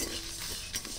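Fennel and cumin seeds frying in a pan are stirred with a utensil, making a faint, soft crackle with a few light scraping knocks near the end.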